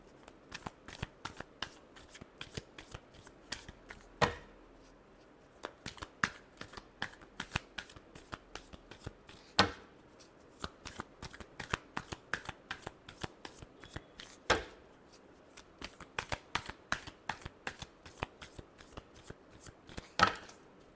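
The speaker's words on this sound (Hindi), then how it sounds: "Last shuffle." Tarot cards are shuffled again and again, a long run of quick papery riffles and taps with louder flicks now and then, close by and quiet throughout.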